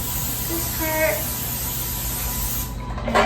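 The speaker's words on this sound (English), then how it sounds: "So I'm gonna spray this part." Cooking spray hisses from a can onto a meatloaf drip pan in a home kitchen, a short continuous spray close to the mic, with faint background noise and a brief clatter at the end.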